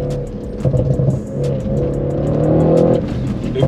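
A 730 hp Audi RS6-R's engine revs hard while driving, a loud, close, rising and falling roar with repeated gear-change surges and no talking over it.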